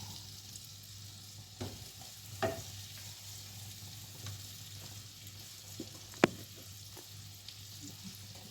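Egg-dipped, flour-coated pieces frying in a pan: a low, steady sizzle with occasional soft clicks and one sharp tap from turning or placing food, close and quiet, with no talking.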